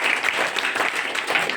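Lecture audience applauding together, a dense, steady wash of clapping with no gaps, fairly close and loud throughout.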